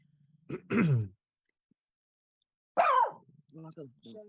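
A short, rough cough or throat-clearing bursts out up close, followed after a pause by another harsh vocal burst and brief murmurs.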